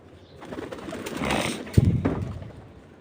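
Pigeons being released to fly from a home loft for racing training, giving soft coos and calls with a brief flurry near the middle, moderately close and without talk.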